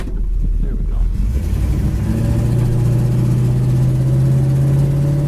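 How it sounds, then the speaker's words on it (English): A 1965 Buick Skylark with the 300 four-barrel V8 pulls away and climbs to speed, its loud, steady engine drone rising in pitch and heard from inside the car with no talking. "The 300 4 barrels, not a powerhouse, but as you can see, it gets right up to speed."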